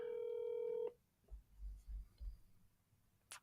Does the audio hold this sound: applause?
no